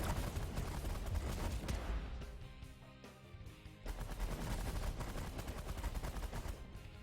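Ship weapons on auto fire in The Last Federation, a steady stream of rapid, repeated firing bursts that dips briefly midway before resuming, fairly quiet overall with no voices.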